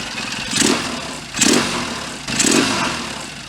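A rebuilt Triton motorcycle engine runs in three rough, surging bursts about a second apart, each swelling and fading like blips of the throttle, moderately loud and close with no talk.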